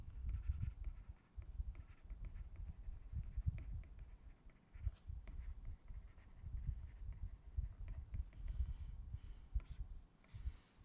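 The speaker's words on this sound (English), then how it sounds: "let's write down the non-dimensional equations in a more compact form." Pen or marker scratching steadily as equations are written out during a fluid dynamics lecture on Benard-Marangoni instability, a quiet, continuous run of soft strokes and taps with no talk.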